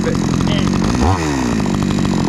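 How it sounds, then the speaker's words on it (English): A chainsaw cuts through hard wood on Macleay Island in Moreton Bay, Queensland, its engine droning steadily up close and briefly revving and bogging, while someone talks over it. "Then I see how the chainsaw likes it."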